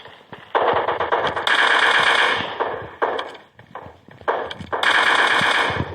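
Rapid automatic gunfire from a mobile shooter game, loud bursts of rattling fire broken by short pauses, with no talking.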